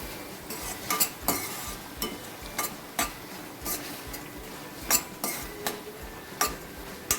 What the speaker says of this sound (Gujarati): હવે આ બધા જ મસાલાને સરસ આપણે મિક્સ કરી દેવાના છે.